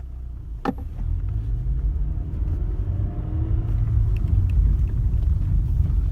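A 2013 Honda Accord with its clutch delay valve deleted, driving as it is shifted into gear: a sharp click early on, then a low steady engine and road rumble that builds gently, with no talk.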